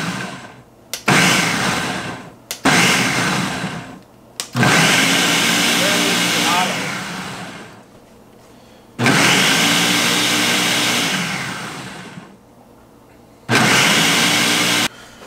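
A kitchen mixer whirs in loud bursts as peppers are blended for salsa, five pulses of a few seconds each that wind down between stops, with a voice talking in the gaps.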